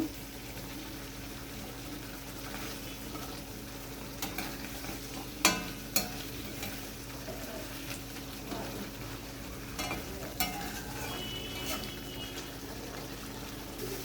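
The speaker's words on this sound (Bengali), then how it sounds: "মাছগুলো দিয়ে দিয়েছি, এবার গ্রেভির সঙ্গে ভালো করে মিশিয়ে নেব" Katla fish pieces being mixed into a bubbling spiced gravy, a soft steady simmer and sizzle with occasional spoon scrapes and clacks against the pan, fairly quiet and without voices.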